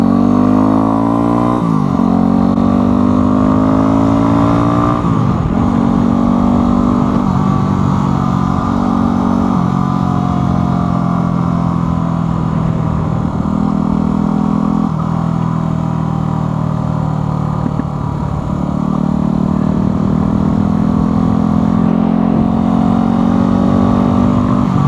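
A fuel-injected motorcycle engine runs steadily and loudly for the whole stretch, its pitch rising and falling with repeated throttle blips and revs, alone without any talk.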